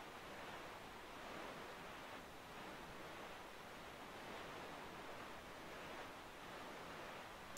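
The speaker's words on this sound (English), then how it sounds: "Listen to the calming sounds of Link sailing the ocean." In the Wind Waker video game, Link's boat sails the open ocean, and soft waves wash past in a steady, gentle hiss, faint and unbroken, with no voices.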